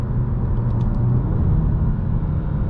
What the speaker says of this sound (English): it holds gears in sport mode really, really well. You can hear that right now.